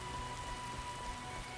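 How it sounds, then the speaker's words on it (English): Steady heavy rain in The Witcher video game, a dense, even patter of drops on surfaces with no other sound, continuous across the short span. "It's raining cats and dogs."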